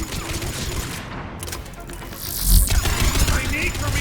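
Gunfire in the video game Mass Effect 3 during a fight on Thessia: dense, loud bursts of shooting and booming impacts fill the whole stretch with continuous battle noise.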